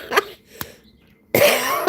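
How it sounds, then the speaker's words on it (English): A woman coughs close to the microphone: two short separate coughs, then a longer, harsher coughing fit in a quiet indoor room. "I'm going to have a coughing attack."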